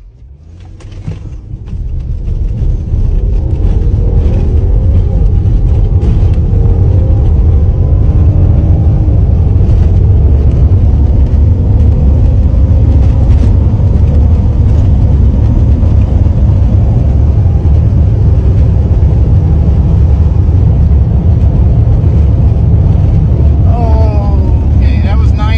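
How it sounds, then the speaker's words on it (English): A 2021 Dodge Durango runs flat out across the Bonneville Salt Flats, its engine a loud, steady roar under heavy wind buffeting that holds for the whole run after a short build-up at the start. "we're going to see how fast my 2021 Durango will go"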